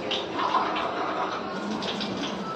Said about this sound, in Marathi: पाणी ऍड करते, पाणी कमी